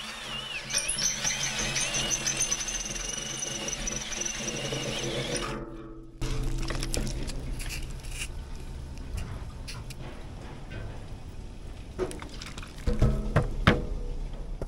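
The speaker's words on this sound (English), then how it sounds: "Stainless, low RPM, lots of pressure into the cut." Stainless steel being drilled at low RPM with heavy feed pressure; a steady, loud grinding drone that halts abruptly near the midpoint, followed by scattered clicks and clattering bursts of metal-shop noise.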